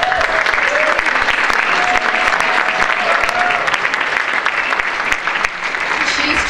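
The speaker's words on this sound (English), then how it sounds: "I'd like to give a special round of applause to Liz Kellner from Singleton Law Firm" Round of applause at a county innovation celebration for a law firm organizer, steady loud clapping from a crowd filling the whole stretch without a break.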